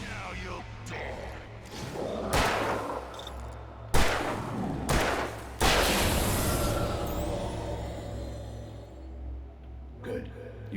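Gunshots in the Alan Wake video game, several sharp broadband reports spaced over a few seconds, with a louder blast standing out, set against a steady low ambient drone.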